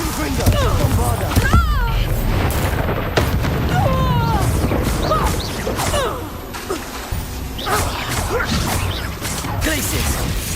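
Bombarda blasting spells and other combat magic exploding in a Harry Potter video game duel, heavy booms and crashes overlapping with whooshes in continuous loud action while a voice talks over it.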